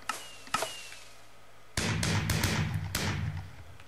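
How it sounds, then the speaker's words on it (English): Fireworks go off in the video game Minecraft. Two sharp launch pops are followed by a sudden burst of crackling blasts, with several loud cracks over a sustained rumble. "I'm going to show you the fireworks again"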